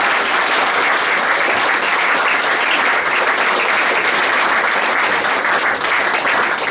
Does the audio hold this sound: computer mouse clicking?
no